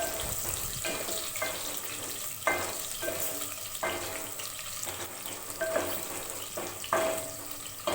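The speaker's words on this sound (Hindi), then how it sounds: "प्याज को इतना फ्राई करेंगे कि ये थोड़ी हल्की सी नरम हो जाए" Roughly chopped onion frying in a pan, a steady soft sizzle with intermittent scraping stirs and clinks, close and moderately quiet with no talking.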